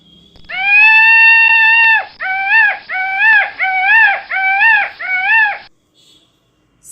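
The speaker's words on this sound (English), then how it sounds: "peacock" A peacock calls loudly and up close, one long wailing note followed by five shorter repeated cries in a steady rhythm.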